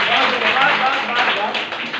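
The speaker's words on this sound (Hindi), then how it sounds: "बजाओ ताली" A classroom of students claps together in a short burst of dense, close hand claps, mixed with some voices.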